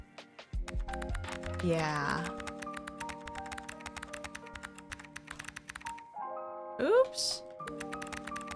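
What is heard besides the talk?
typing on a computer keyboard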